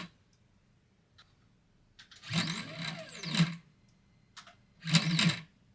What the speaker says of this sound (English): and the motor will move accordingly